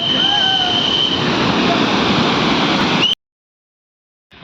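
Rushing water of the Verevali waterfall below a dam, a loud steady broadband roar lasting about three seconds, then cut to silence with a faint brief sound at the end.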